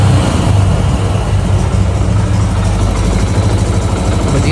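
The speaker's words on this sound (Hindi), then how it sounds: "अभी मैं रेस दूँगा" A Yamaha YBR125 motorcycle with a butterfly carburetor running lean during mixture tuning, its engine droning steadily and close for several seconds with no talk over it.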